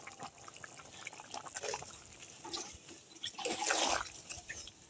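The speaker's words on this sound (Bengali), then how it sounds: "এবার আমি জল দিয়ে দেব।" Water poured into a pan of sautéed potatoes and cauliflower while cooking, a soft splashing pour that swells near the end, close and fairly quiet with no talk.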